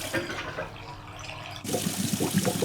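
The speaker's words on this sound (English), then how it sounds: "That's the first wash cycle." Washing machine running its first wash cycle, with water sloshing and swirling inside the drum; a steady rush that grows louder and busier partway through, with no one talking.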